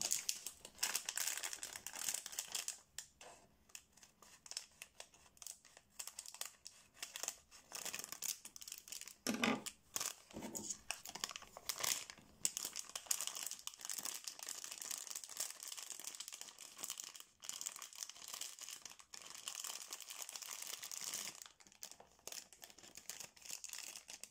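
A wrapped package from a Christmas-themed monthly subscription box being opened, its wrapping crinkling and rustling in bursts over about twenty-four seconds, close and fairly loud, with brief pauses and occasional tearing.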